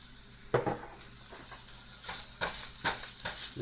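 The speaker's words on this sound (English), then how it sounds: "Just squirt more of oil in here." Oil sizzling under stirring in a pan, a steady crackling hiss with sharper bursts as food is moved around, close by.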